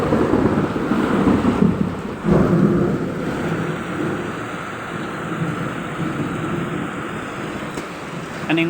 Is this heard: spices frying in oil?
no